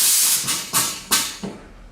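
Compressed air hisses through a DEMA foam cleaning unit in a series of loud, close bursts, the strong opening rush followed by three or four sharper puffs that gradually fade.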